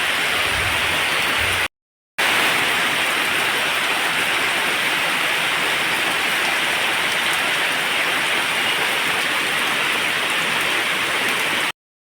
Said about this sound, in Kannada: ಚೂರು ಮಳೆ ನಿಲ್ಲಿಂತ ವೆಯ್ಟ್ ಮಾಡಿದ್ದೆ, ನಿಲ್ತೇ ಇರಲಿಲ್ಲ.